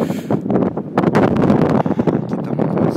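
Strong cold wind buffets the microphone at the top of the Eiffel Tower in Paris, a loud gusting roar with choppy bursts throughout, no clear voices.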